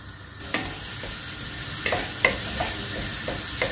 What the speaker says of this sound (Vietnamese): mình xào cho củ hành nó